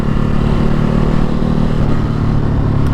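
A Ducati Hypermotard 950 SP motorcycle rides along small country roads, its twin-cylinder engine droning loud and close with a steady throbbing rumble and wind noise throughout.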